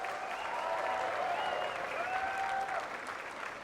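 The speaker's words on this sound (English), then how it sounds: "Give them a round of applause" Steady applause from an audience at the Heroes of the Storm launch event fills the whole stretch, even and sustained, with faint whistles or cheers mixed in.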